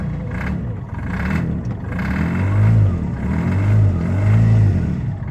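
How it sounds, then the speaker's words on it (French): A Ligier JS50 microcar's small engine is revved a few times up close, each rev rising in a rough, clattery drone and falling back to idle, with no voices. "Voilà, quelques petites revs."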